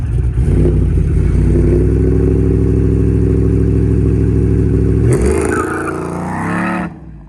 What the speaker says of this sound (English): put it in second and then hit the gas. Let it go into second gear so that it grabs it